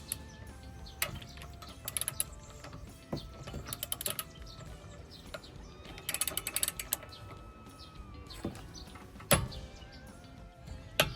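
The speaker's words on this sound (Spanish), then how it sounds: "Cuando llegue el tope de par de apriete, la carraca emitirá un sonido que parece que se ha roto algo y se doblará" A VEVOR torque wrench ratchets in a run of sharp mechanical clicks, then gives a louder snap as it reaches its torque limit. The sound is fairly close, with no talk over it.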